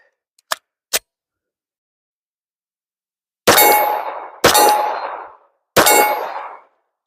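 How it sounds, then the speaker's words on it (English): Shots of 9mm rounds fired downrange at a target, heard as two small sharp ticks followed by three loud, widely spaced reports, each ringing out with a decaying tail. "Let's throw some rounds down range and see if we can hit a target."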